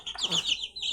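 A chicken gives a brief, thin clucking call nearby while the flock pecks at fish bones, a single short vocal burst.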